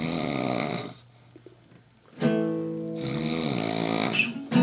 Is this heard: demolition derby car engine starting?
no